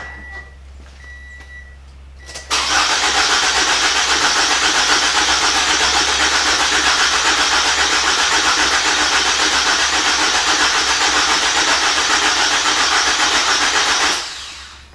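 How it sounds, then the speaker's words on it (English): A flood-damaged Toyota Camry engine cranks loudly and continuously for about eleven seconds while its fuel pump runs, then cuts off; a few faint beeps come before the cranking starts. "All right, I'm gonna crank on it. It's gonna pump into there."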